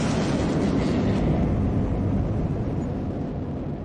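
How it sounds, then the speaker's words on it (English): Rumbling, broadband roar of a rocket ship launch sound effect, loud at first and slowly fading over a few seconds, with no talking. "I always use my rocket ship to let me know that this thing's getting ready to take off."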